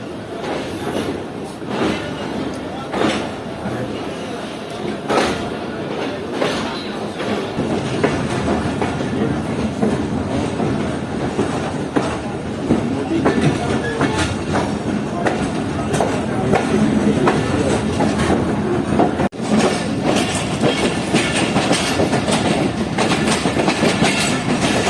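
Karakoram Express passenger train rolling along the rails in Pakistan, steady rumbling clickety-clack of wheels over joints, close and continuous, building slightly louder over time with faint background noise.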